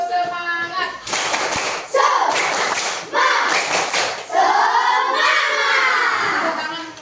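Primary school children in an Indonesian classroom do a rhythmic spirit clap, loud patterned bursts of clapping alternating with chanted voices, repeated in several rounds before the class settles into shouted speech.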